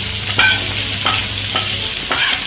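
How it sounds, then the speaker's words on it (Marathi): Chopped onion dropped into a pan of oil with already-reddened garlic sizzles steadily at close range, with a few louder scraping stirs of a spoon at regular intervals and no talking. "त्यात आपण कांदा टाकूया"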